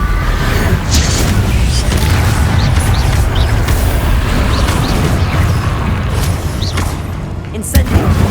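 Fire spells cast in Hogwarts Legacy on PS5 burst with repeated loud booms and fiery explosions over a dense, continuous rumble of combat, with a sharper blast near the end.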